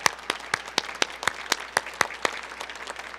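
A few people clap slowly and evenly at an outdoor flag raising ceremony for Transgender History Month, about a dozen distinct hand claps in a steady rhythm, close and sparse.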